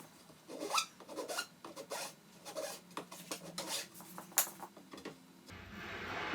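A hot iron rasps and rubs back and forth over wood to melt edge-banding glue, making soft repeated scraping strokes up close at low volume.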